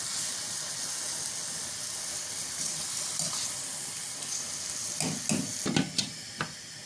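Potatoes simmer in tomato water in a pan for aloo katli, giving a soft continuous bubbling sizzle, with a few louder clinks and scrapes of stirring near the end.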